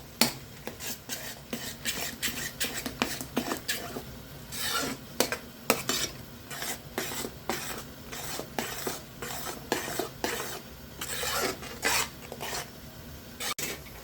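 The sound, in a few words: stirring tomato chutney in a pan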